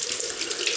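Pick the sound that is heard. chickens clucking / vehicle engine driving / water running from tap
water running from tap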